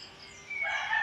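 A rooster crows among a flock of chickens, a single loud, rising call that swells in the second half of the brief moment, fairly close with no talking.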